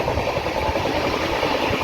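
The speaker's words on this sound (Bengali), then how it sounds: "দেখুন কেমন স্পিড, পুরো একদম ঝড়ের গতিতে চলছে আমাদের ট্রেন" The Chambal Express passenger train races at speed near Dankuni in West Bengal. A dense, steady rumble and roar with a faint rhythmic clatter of wheels on rails, loud and close as from inside a carriage.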